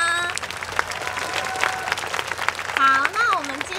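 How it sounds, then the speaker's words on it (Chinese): An audience applauds at a stage show, a steady patter of clapping throughout with a voice and sung tones rising above it near the end. "再鼓掌一次吗？"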